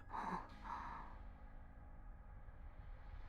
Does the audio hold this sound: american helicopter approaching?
no